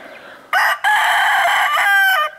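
A rooster crows loudly and close by, one long drawn-out call with a short break near the start, and some faint clucking can be heard beneath it.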